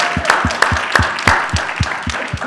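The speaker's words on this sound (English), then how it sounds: "Let's give Madam Chair a hand clap on this one" Scattered hand claps from a business event audience, a few distinct sharp claps in an uneven rhythm rather than a full wash of applause, close and fairly clear with no talking over them.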